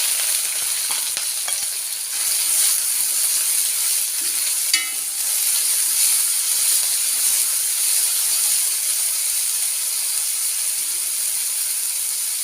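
Sliced onion and green chilli sizzle in hot oil with popped mustard seeds, a bright, steady frying hiss heard up close throughout, with a few faint clicks and a brief utensil clink, no voices.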